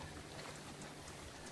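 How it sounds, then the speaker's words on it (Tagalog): Steady rain falls along a mountain trail on a traverse toward the highest summit of Ilocos Sur, a faint, even hiss of drops with no voices. "Kaso inabot na kami ng ulan. Mukhang malakas to."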